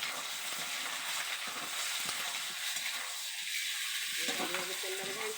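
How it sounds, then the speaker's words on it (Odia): Ginger and chopped onion fry in hot oil for chili manja, giving a steady, close sizzling hiss with some stirring crackle and a faint voice underneath. "ତେଲରେ ଭାଜିବା।"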